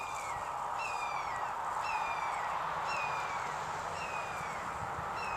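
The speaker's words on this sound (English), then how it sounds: "I got these two hawks here." Two hawks calling outdoors, repeated high descending screeches at roughly one-second intervals over a steady background hiss, fairly distant and without talk.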